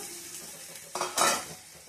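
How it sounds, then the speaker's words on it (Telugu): Fried boiled eggs dropped into a hot spiced pan for egg curry, then stirred, giving a short burst of sizzling and clinking of a spoon against the pan, close and fairly loud. "చూడండి డార్క్ బ్రౌన్ కలర్లో ఫ్రై చేసుకున్న ఎగ్స్ ఉన్నాయి కదా, అవి వేసేసుకుందాం"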